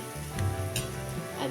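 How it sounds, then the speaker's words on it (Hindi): Onions frying in a pan for keema samosa filling, a steady sizzle with a few brief clinks and stirring noises, close and continuous over the short stretch. "प्याज को हमें ज़्यादा नहीं पकाना है।"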